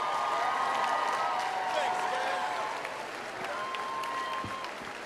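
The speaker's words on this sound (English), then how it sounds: "please turn and recognize with applause your family, your friends, and all of those who helped you arrive here." Commencement audience applauding at a 2010 USC Annenberg School for Communication graduation ceremony, a broad, steady wash of clapping from a large crowd that tapers slightly toward the end, with a few voices mixed in.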